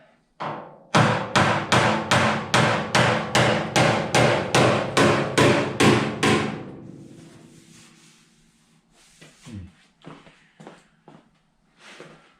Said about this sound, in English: So I don't know if I can do it with this little hammer, but I'll try it.